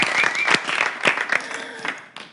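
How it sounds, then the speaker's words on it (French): Applause for a singer, a crowd clapping steadily and fairly close, uneven bursts of hand claps with a few voices mixed in, tapering off near the end. "On applaudit pour elle."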